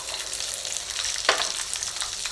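Shallots frying in a pan for spicy peanut chutney, a continuous sizzle with one sharp stirring clatter partway through.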